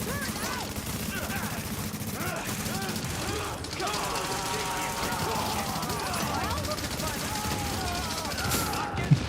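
Sustained automatic gunfire in The Division, a steady rattle of rapid shots running throughout, with a player talking over it.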